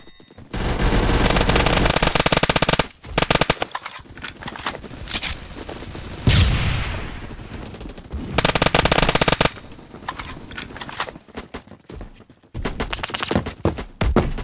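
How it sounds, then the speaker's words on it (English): A Colt SMG 633 in the Phantom Forces video game fires several long rapid bursts. Loud automatic fire alternates with short pauses and scattered single shots. "My guns, they're firing."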